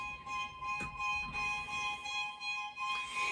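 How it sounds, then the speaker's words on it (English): Violins play a quiet, steady string texture with a gently pulsing repeated figure, sustained high tones running throughout with slight swells. "So that pulsing sound I decided to give to the violins"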